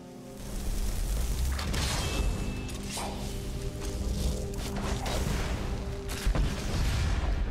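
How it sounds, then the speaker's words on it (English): A trap goes off in Skyrim with a big, rumbling explosion that swells into a sustained roar, with whooshing debris and scattered booms over several seconds. "I don't know what that explosion shit is, but it's big"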